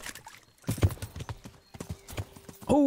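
Horse hooves clip-clop in the medieval video game Kingdom Come Deliverance, a close, uneven run of hoof strikes at a trotting pace, with a brief snort or whinny at the end.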